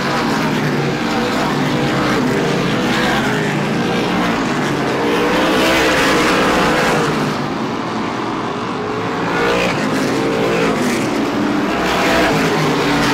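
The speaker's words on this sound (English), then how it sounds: "Right now, Nocella appears to be the fastest car on the track" Race cars roar around the Star Speedway oval during an SBM 125 event, a loud continuous engine drone that swells and fades as the pack passes close by.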